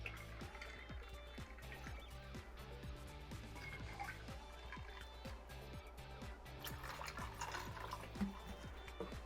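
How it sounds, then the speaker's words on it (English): Faint pour of club soda into brandy in a glass, with a low, steady fizzing and dribbling and small tapping clicks over a quiet background. "Let's water down our brandy"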